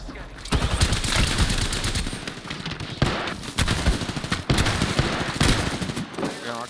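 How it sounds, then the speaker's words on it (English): Repeated shotgun blasts and gunfire in the Apex Legends battle royale game, loud and dense, firing in bursts across the whole stretch with brief gaps between volleys. "I definitely didn't miss all of the shotgun blasts."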